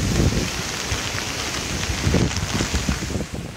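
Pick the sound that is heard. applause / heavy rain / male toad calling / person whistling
heavy rain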